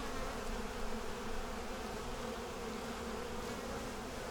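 Honey bees swarm over a hive frame during an inspection for a queen cell, giving a steady, close, dense buzzing drone that holds unbroken throughout.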